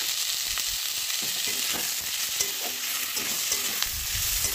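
Chopped tomatoes go into potatoes frying in a pan for a ghugni with kabuli chana and peas, producing a continuous hiss of frying with scraping stir strokes throughout.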